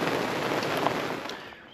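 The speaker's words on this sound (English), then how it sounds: "It was not supposed to rain here. And guess what? It's raining." Steady rain falling at a New England brewery glamping campsite, a dense continuous hiss of drops pattering on surfaces, close and fairly loud, fading slightly at the end.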